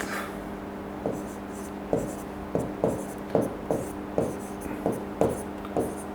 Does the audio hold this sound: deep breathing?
no